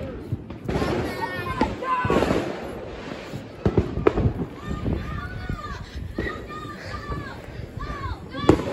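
Fireworks bursting over a lake on the Fourth of July, a steady barrage of booms and crackles with sharp louder bangs, heard amid people talking and shouting nearby.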